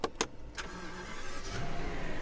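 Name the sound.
Rolls-Royce car engine starting via start-stop button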